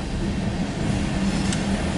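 A CSX mixed freight train with many tank cars rolls steadily past, a loud continuous rumble with faint rail clatter.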